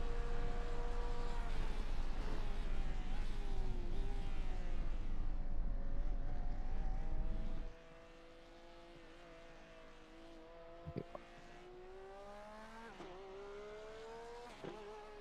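Porsche 911 GT3 R race car in a racing sim at Laguna Seca, its engine roaring loud and steady with gear shifts for the first half, then dropping to a fainter, higher engine note with brief tire chirps.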